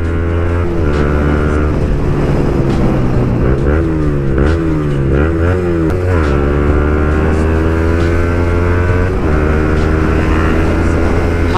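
A group of motorcycles rides together toward a riders' cafe, engines droning loudly and steadily with rising and falling revs throughout.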